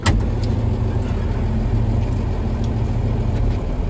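A John Deere 4430 tractor engine idles steadily to recharge its battery, a continuous close low rumble with no breaks, heard alone on a muddy farm.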